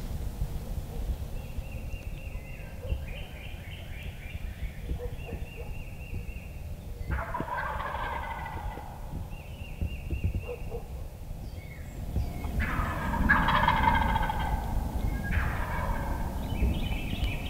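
Wild turkeys gobble repeatedly from a distance during Missouri youth turkey season, several rattling calls overlapping against a steady outdoor background.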